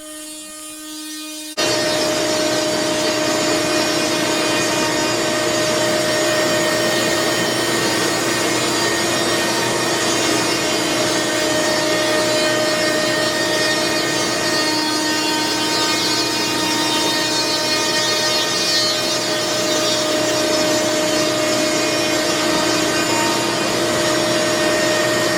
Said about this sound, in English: So I got to turn the vacuum on now.